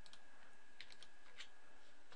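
A Control key is held while a computer mouse clicks during Photoshop work, making a few faint, sharp clicks and taps in quick succession against quiet room tone.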